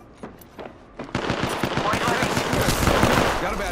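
Rapid automatic gunfire in the video game Apex, a fast rattling burst of close shots that builds into a dense, loud continuous volley with crackling impacts, under game noise.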